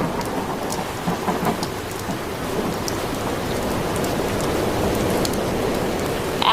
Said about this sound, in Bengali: জোরে জোরে বাতাস শুরু হলো, আর সেই সাথে শুরু হলো বৃষ্টি